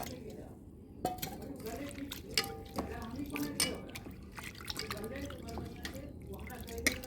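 Water is poured into a bowl of thin flattened rice to wash it, giving soft drips, splashes and squishy sloshing with light clinks from the bowl, while someone talks quietly over it.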